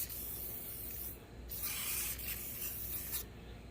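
Protective coating hisses from a spray can onto a restored car headlight in short bursts, a quiet close airy spray with brief pauses between passes and no talking.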